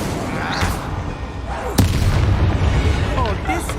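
A fire spell is cast in Hogwarts Legacy: one sharp whooshing crack lands mid-clip, then a sustained fiery rumble continues over a busy game background.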